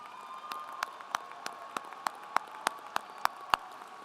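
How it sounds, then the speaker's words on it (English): A handful of distinct claps ring out at a university commencement ceremony, evenly spaced and moderately faint over a quiet hall, with no voices. "Please join me in a big round of applause."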